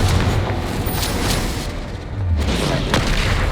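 Combat spells exploding in a Hogwarts Legacy battle: dense, continuous booming blasts and crackling impacts piled on top of each other, loud and close, with a few sharp bursts standing out.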